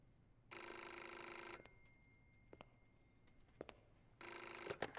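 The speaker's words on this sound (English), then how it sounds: "Phone call." A telephone rings in the Metal Gear Solid: Portable Ops video game, with two bursts of bright electronic bell ringing separated by a pause with a few faint clicks, fairly quiet and with no talk.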